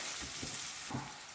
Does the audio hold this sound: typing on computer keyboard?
no